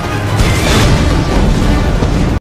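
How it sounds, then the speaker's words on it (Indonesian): A loud, roaring explosion of a large gas cylinder, with a sustained rumbling blast that fills the whole moment before cutting off abruptly. "Bond melihat ada sebuah tabung gas yang cukup besar dan dia langsung menembaknya, yang membuat tempat itu meledak"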